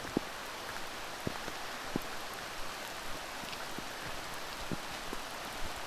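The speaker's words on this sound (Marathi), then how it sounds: "हे बघा पाऊस पडतोय" Steady rain falling outdoors in a village setting near a stream, a fine constant patter with scattered louder drops striking nearby surfaces, fairly quiet and without voices.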